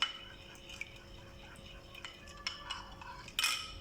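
Spices are stirred into tamarind pulp in a bowl, heard as faint, soft spoon clinks and wet stirring scrapes spaced irregularly against a quiet background.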